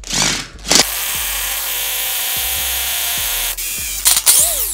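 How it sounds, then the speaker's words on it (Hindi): An electric drill whirs steadily as a larger bit enlarges the valve hole in a bicycle rim for a Presta-to-Schrader conversion, a loud, close, continuous whine broken by short stops and restarts at the beginning and end. "इससे बड़ी वाली ड्रिल लगा रहा हूँ मैं।"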